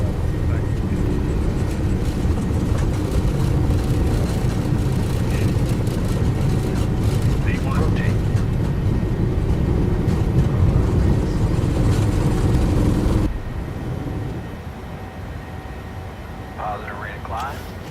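PMDG 737-800 engines taxiing in Microsoft Flight Simulator 2020, a steady low jet whine and rumble that drops in level partway through, with radio-style talk over it.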